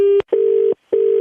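A telephone line tone during a prank call: a steady electronic beep pulses in three short bursts separated by brief silences, loud and close with no voices.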